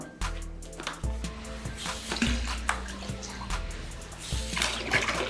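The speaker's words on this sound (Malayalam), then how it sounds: "അത്യാവശ്യം നന്നായിട്ട് തന്നെ വെള്ളം വരുന്നുണ്ട് അല്ലേ?" Water gushes and splashes through a hose in uneven spurts from a homemade valve pump worked by hand, surging and easing, close and fairly loud with no talking.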